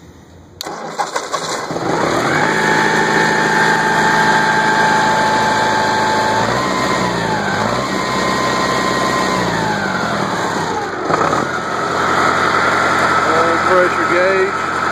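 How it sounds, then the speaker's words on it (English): A Ford tractor with a bush hog cranks on the key and catches, then settles into a loud, steady diesel idle with shifting tones as the throttle changes, close by and continuous. "Crank it up with the key, turn the key on"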